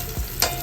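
Shallots sliced thin and frying in oil over a low flame, stirred in the pan: a steady soft sizzle with a couple of brief scraping stir bursts, close and alone.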